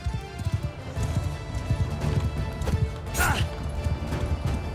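A horse in the medieval battle game Mount & Blade II: Bannerlord, with clip-clop hoofbeats and crashing impacts amid a busy battlefield din, continuous and fairly loud.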